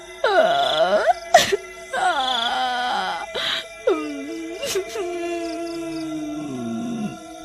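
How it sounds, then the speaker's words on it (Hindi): Eerie wailing and moaning cries like someone weeping in a forest at midnight, a ghost-story sound effect made of several long wavering howls with sharp bright accents between them, loud and alone without speech. "आधी रात होने पर जंगल से किसी के रोने की आवाज"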